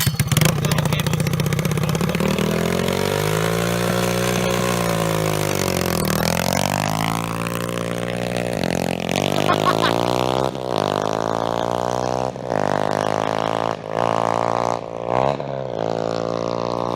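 A pit bike engine runs steadily at idle, a loud, buzzing motor note that dips and rises as the revs shift, with a few brief throttle blips and catches near the end.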